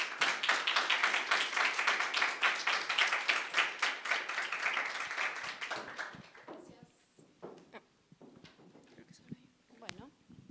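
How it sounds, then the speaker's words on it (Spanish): A crowd applauds to welcome a speaker at a Spanish-language book presentation. Dense, steady clapping fills the first six seconds, then thins to scattered claps and small noises. "Démosle un aplauso y démosle la bienvenida."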